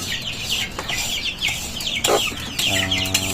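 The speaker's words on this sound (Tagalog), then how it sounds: "Yan mga kamongs, ang sisiw ng aking manok." Mother hen clucking near her newly hatched chicks on a farm, soft repeated clucks mixed with high chick peeps and a short harmonic call toward the end, fairly close with rural background.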